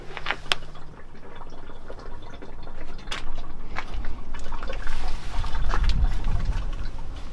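Motor oil drains from the engine of a second-generation Toyota 4Runner with a 3.0 4WD engine into a gallon jug, making a steady close liquid trickle with scattered drips and light clicks, without talk.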